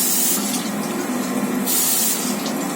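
A household tap runs steadily and loudly for hand washing, a continuous close hiss of water splashing with no talk over it.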